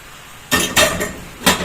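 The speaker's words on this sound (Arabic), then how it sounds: "هبتدي ان انا بقى انزل البتنجان بتاعي" Eggplant tipped into a hot pan for a home-cooked dish, with a few sharp metallic clanks of utensil on pan over a soft sizzle, close and fairly loud.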